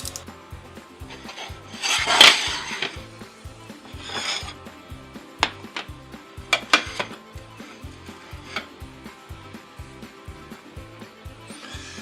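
A knife cuts through peppers and purple onions for egg-bite meal prep, giving steady soft chopping taps with a few sharper clinks and scrapes, close by with no talking.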